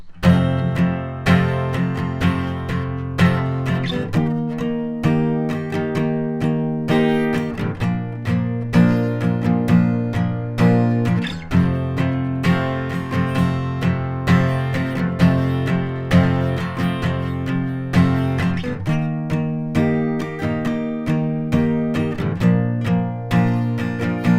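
Guitar strums sustained barre chords in a steady rhythm, the chord shifting every few seconds through a repeating progression, full and close without any voices.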